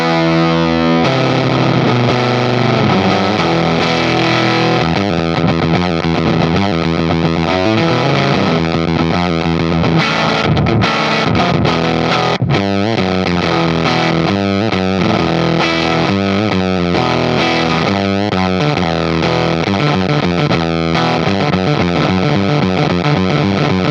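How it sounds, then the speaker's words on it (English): Heavily distorted fuzz guitar played through a fuzz pedal in an amp's FX loop, a loud, saturated, buzzing tone with steady chords and riffs running continuously without talk. "The fuzz is plugged into an FX loop."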